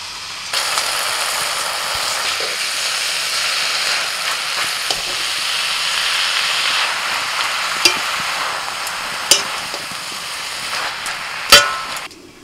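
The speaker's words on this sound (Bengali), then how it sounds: "মশলাটা কষানো হয়ে গেছে, এবার পালং শাক দিয়ে দিচ্ছি" Spinach sizzling in a pan on fried salt, cumin, turmeric and red chilli powder, a steady loud hiss and crackle with occasional sharp clicks of stirring, no voices.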